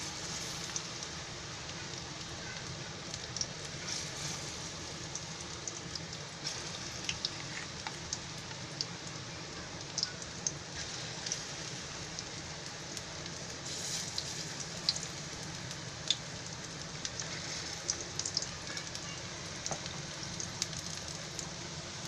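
Small potato fritters (bhaji) frying in oil, a steady soft sizzle and crackle running the whole time with no talk over it.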